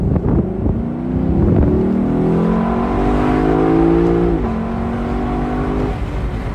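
A naturally aspirated Lexus engine revs up close, its note climbing smoothly through a long pull and then dropping back after a gear change, loud and alone with a hint of wind.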